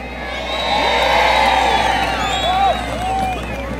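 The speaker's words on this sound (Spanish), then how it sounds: "Muchas gracias por sus aplausos" Spectators at a freestyle motocross show during the Señor de los Milagros festival in San Pablo, Cajamarca, cheer and whoop in a swelling, sustained burst, with scattered shouts and clapping rising above the crowd noise.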